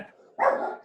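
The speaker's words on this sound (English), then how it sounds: "That's our dog." A pet dog at home gives a short whimpering yip and then one louder, sharper bark, close by, with no talk during the sound.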